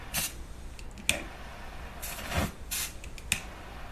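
Aerosol dry shampoo sprays out in several short, breathy hissing bursts spaced irregularly, fairly faint against a quiet background.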